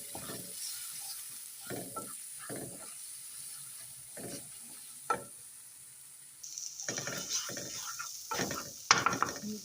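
Paneer bhurji with garam masala and coriander powder being stirred in a pan, a soft sizzle under irregular scraping strokes of a spoon against the metal, fairly close and quiet, with no talk.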